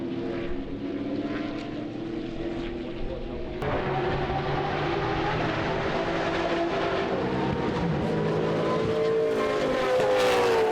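Racing cars battle in a close pack at CARCO.com.au Raceway during a sporting car club round, including a Porsche, their engines droning steadily and loud throughout with no pauses.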